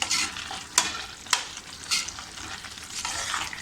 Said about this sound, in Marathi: छान अशी व्यवस्थित अशी ढवळून घेऊया आतमध्ये